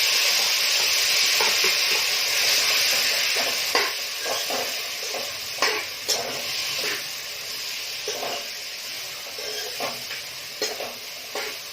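Potatoes fry in hot oil with cumin, a strong hissing sizzle that gradually eases, punctuated by soft stirring bumps and scrapes from a spoon, heard close with no talking.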